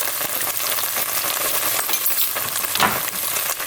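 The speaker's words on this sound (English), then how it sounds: "we're just going to saute this just about 5 minutes" Mushrooms, onions and minced garlic sautéing in a pan, a dense continuous sizzle close by with constant stirring scrapes and a brief louder clink near the end, no talking.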